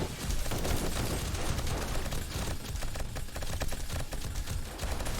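Automated turrets in 7 Days to Die blasting at an oncoming zombie horde during a blood-moon wave, a dense, continuous barrage of rapid gunfire crackling steadily for the whole stretch with no pauses.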